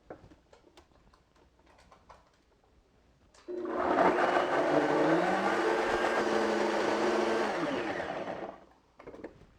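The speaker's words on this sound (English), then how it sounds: "And then we're just going to puree it for a minute." A blender purees a mayonnaise-style dressing made with grapeseed oil, a loud steady whir running about five seconds before cutting off, with quieter kitchen sounds before and after.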